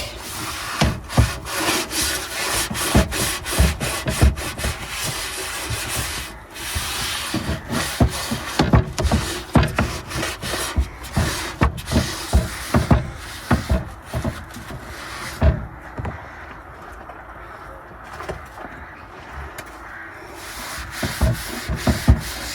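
The soft sponge side scrubbing a non-stick pan: steady close rubbing strokes in a quick back-and-forth rhythm, dense and scratchy, continuing without pause with no one talking.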